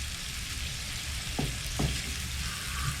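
Bubble and squeak frying in lard and butter, cooked on a narrowboat: a steady broadband sizzle runs throughout, with a couple of soft stirring scrapes near the middle and no talking.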